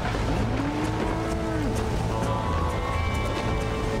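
A cattle herd in Red Dead Redemption lows as riders drive it along: a drawn-out moo rises and falls over steady background noise of movement and hooves.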